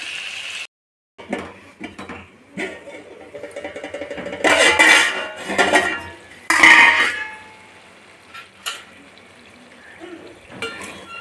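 Tomato and salt stirred in a cooking pot for dried-fish tomato pulusu, with clanking and scraping of a spoon against metal in bursts, louder stretches mid-clip between quieter pauses, close and no speech.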